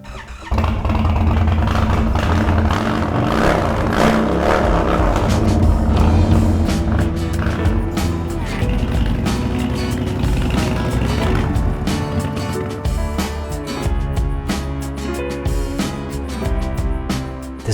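A custom Indian Sport Chief motorcycle engine runs loud and close, a sustained deep throbbing rumble that rises and falls with revving and shifting throttle across the whole stretch.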